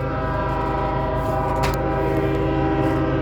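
A passing train with its horn, rumbling loud and steady with a brief horn burst near the middle, heard near a sailing boat.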